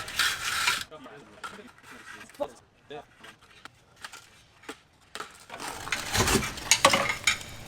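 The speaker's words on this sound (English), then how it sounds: "it's getting chiseled out" Irregular metallic scraping and chipping as a chisel gouges out exhaust filter material, in close uneven bursts that grow louder and busier near the end.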